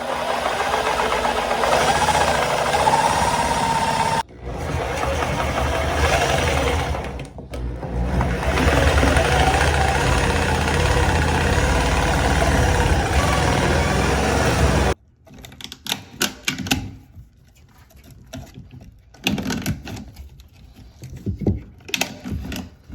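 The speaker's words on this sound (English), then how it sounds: "I'm going to have to wedge something in there in order to get my sawzall there and cut this area out" A Sawzall reciprocating saw cuts out an area of a bathroom wall around a broken pipe with a loud, fast, buzzing stroke that runs in long bursts with brief pauses, then gives way to quieter, scattered knocks and handling noises.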